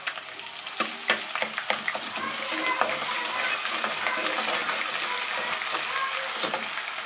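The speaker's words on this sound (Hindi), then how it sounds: "इसको हल्का सा फ्राई करेंगे।" Onions frying in oil with ginger-garlic paste for a cauliflower curry, a steady bright sizzle with scattered crackles and stirring clicks, close and continuous, with no voices.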